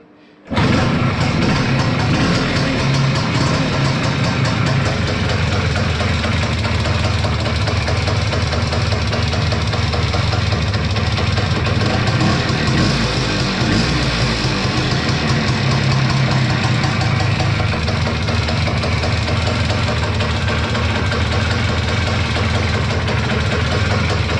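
A Jawa 638 motorcycle, which has a CDI ignition problem, starts after a brief quiet moment and then idles loudly and close by, its engine chugging steadily for the rest of the time without any talking.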